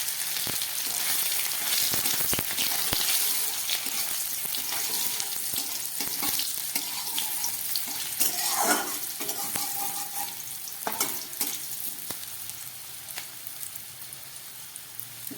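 Boiled potatoes fry in hot oil with garam masala and white cumin, a close, continuous sizzle broken by clattering stirring sounds throughout.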